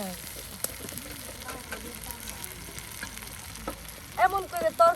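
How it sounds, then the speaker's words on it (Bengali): Ginger-garlic paste frying in oil for beef curry cooked outdoors by a riverbank, a soft steady sizzle with occasional scrapes, fairly faint, with a voice rising briefly near the end. "এখন কিন্তু এই আদা সেই রসুন বাটা মশলা তেলের সাথে কষিয়ে নেওয়া হচ্ছে।"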